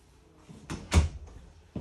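A pantry door opens in a 2024 Forest River Salem Hemisphere 36FL fifth wheel trailer, giving a short close bump and swish followed by a second soft knock, heard alone in a quiet interior.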